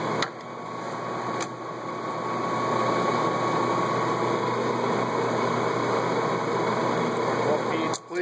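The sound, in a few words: Jones & Lamson turret lathe spindle running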